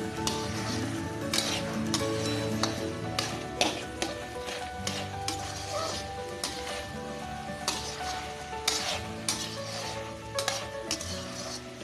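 A spoon stirs fish with raw banana and eggplant in a pan, with soft sizzling and occasional metallic clinks of utensil against cookware throughout, close and steady with no talking.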